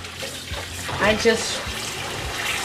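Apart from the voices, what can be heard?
tap water running while washing salmon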